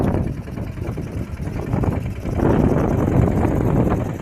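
A New Holland tractor pulling a tine harrow in high first gear, its engine a steady low rumble mixed with heavy wind buffeting on the microphone, growing slightly louder toward the end with no voices.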